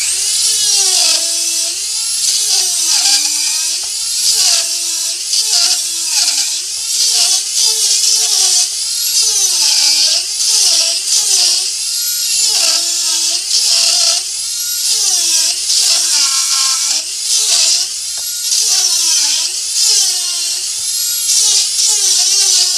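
A Dremel flexshaft rotary tool whines at high speed as it carves a wood tree, the pitch wavering up and down steadily throughout as the bit bites into the wood, loud and close.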